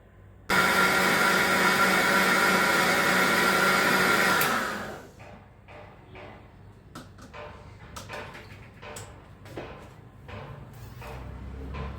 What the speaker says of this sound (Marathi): मी याच्यात साखर बर्फ घालून छान असं वाटून घेते